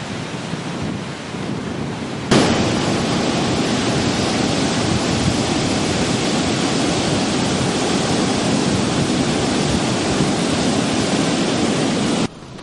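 Surf rolls onto the beach at Seaside and Panama City Beach, Florida, as a loud, unbroken roar of breaking waves that starts abruptly, holds steady for about ten seconds, then cuts off sharply.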